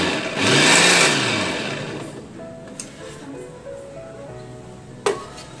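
Vicenza VT-337 power blender with its meat chopper attachment spins up in a loud whirring burst that rises and then fades to a lower motor hum, with a couple of sharp clicks, no voice.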